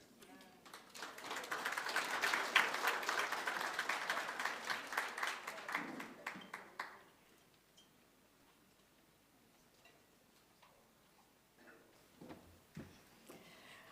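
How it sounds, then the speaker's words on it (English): An audience at an international African languages conference gives a sustained round of dense applause that swells, holds for several seconds, then fades out, leaving a quiet hall with a few scattered taps and faint sounds. "Let's give our Chairperson another big round of applause"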